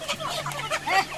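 Chickens cluck in a traditional village poultry yard in Antravali, Konkan, a quick run of close, overlapping clucks with a faint voice in the background.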